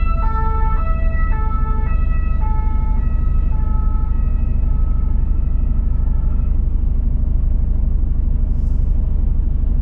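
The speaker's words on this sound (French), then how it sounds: "Il y a des pimpons derrière moi, c'est quoi? C'est une ambulance." An ambulance siren wails in stepped two-tone bursts behind a truck waiting at traffic lights in Angers, France, over a constant heavy diesel engine rumble inside the cab; the siren is clear at first, then fades after several seconds.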